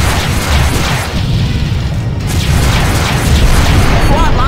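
Self-fired missiles detonating in the Freespace 2 space combat game, heard as a sustained, loud, rumbling roar of blasts with no clear gaps over the whole stretch.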